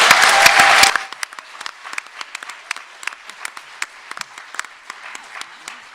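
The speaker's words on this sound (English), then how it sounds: "let's all give them a round of applause" Audience applause at the Easthampton mayoral debate, a loud burst of clapping for about a second that drops to scattered, quieter individual claps trailing off.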